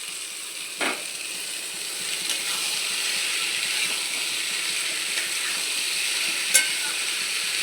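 Boiled chickpeas hiss and sizzle in a hot wok in a steady, moderate wash, with occasional scrapes and taps of stirring and no voices.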